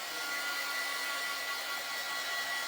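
A steady, even whir of a dryer blowing air over wet chalk paste, moderately loud and unbroken, with no voices.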